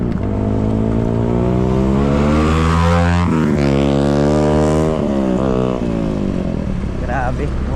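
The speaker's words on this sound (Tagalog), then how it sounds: "Grabe, motor na maingay." Noisy motorcycle passing close by, a loud droning engine roar that swells and shifts pitch as it goes past, with people talking over it.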